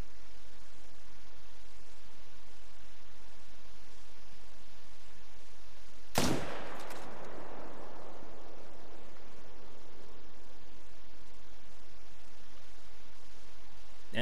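A rifle shot fired at a red deer in the hunting game theHunter: Call of the Wild cracks once loudly midway, then rolls off in a fading echo against a quiet outdoor ambience.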